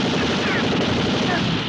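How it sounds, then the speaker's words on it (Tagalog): Gunfire in a chaotic scene from a Filipino comedy film: a dense, loud, continuous volley of shots rumbling together in a brief, sustained burst. "May putukan!"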